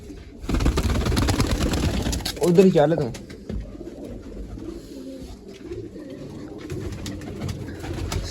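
Pigeons cooing in a low, throaty stretch around a loft as birds return, loud at first beside a voice, then fading to quieter, intermittent murmuring.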